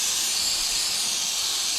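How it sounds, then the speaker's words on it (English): Steady, bright hiss of a gentle spray hitting a car's oil filter, coated in sticky fuel-contaminated oil, on a Z31 300zx during an oil change, continuous and close. "the filter is actually starting to look a little bit cleaner just by doing this gentle spray"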